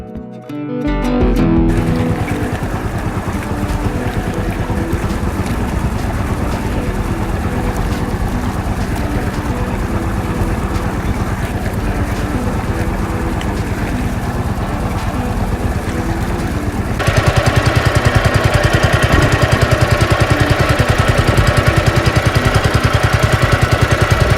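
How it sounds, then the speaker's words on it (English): A sailboat's inboard motor drones steadily while motor sailing off Fraser Island, a constant throbbing hum under wind and water rush that grows louder and fuller partway through. "I started up the motor and we motor sailed for a while"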